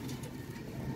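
Pigeons coo softly in a loft of net-kept birds, low throaty murmurs layered over a faint background hum, close and steady.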